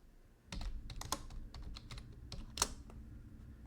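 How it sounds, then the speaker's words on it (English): Quiet close keystrokes on a computer keyboard as a short command is entered, a quick irregular run of taps ending in a firmer press, alone without talk. "you just need to type sudo apt update."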